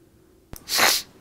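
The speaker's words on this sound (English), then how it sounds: "there's a sniffle I let through after I just coughed" A single short sniffle follows a faint click, close to the microphone and alone against quiet room tone, during a World of Warships gaming session.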